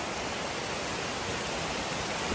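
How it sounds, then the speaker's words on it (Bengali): A mountain waterfall swollen after rain roars in a dense, unbroken wash of rushing water, loud and close, with no voices. "আমরা এখনো ঝর্ণার এখানে অবস্থান করতেছি।"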